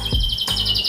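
A close, rapid warbling canary song with quick repeated trills, loud and continuous throughout the short burst.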